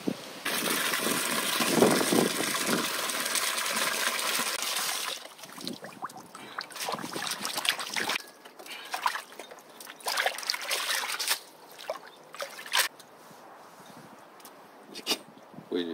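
Mulberry leaves being washed in water, with steady splashing and trickling for the first few seconds, then intermittent drips, sloshes and handling noises at close range.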